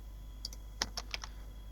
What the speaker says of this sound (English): Now I am typing watch and change the color to black.